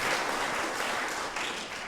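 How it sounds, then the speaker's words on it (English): A crowd applauds steadily, a dense wash of many hands clapping that holds at an even, fairly loud level throughout. "How about a round of applause for all of those folks?"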